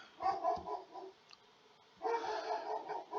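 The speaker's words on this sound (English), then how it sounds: "Sorry if you hear my dog in the background." A pet dog in a home barks and yips in two short bursts, muffled and somewhat distant, with a quiet pause between them.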